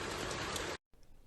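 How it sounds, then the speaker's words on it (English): Heavy rain pours down outdoors in a steady, loud hiss, then cuts off abruptly before resuming much fainter. "it's still raining heavy"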